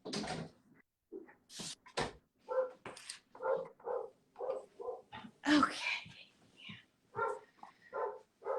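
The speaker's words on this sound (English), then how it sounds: "Sorry in advance for her barking." A dog barks in repeated sharp bursts mixed in with nearby talking, loud and close indoors, the barks scattered through continuous conversation.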